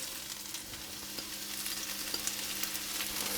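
Vegetables for ratatouille frying gently on low heat, a steady close sizzle with faint crackles and light stirring taps, no voices.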